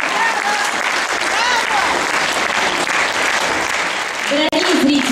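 Warm audience applause at a children's and youth dance theatre concert, a full hall clapping steadily and loudly, with a voice beginning to speak over it toward the end.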